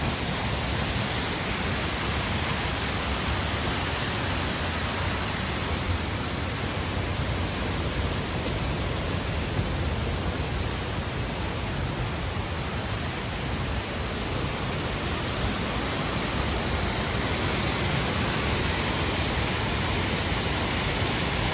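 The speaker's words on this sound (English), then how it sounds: "this is not even one of the main two waterfalls here" A smaller waterfall in Cloudland Canyon State Park, Georgia, roars close by as a constant, dense rushing wash of falling water, unchanging throughout with no voices.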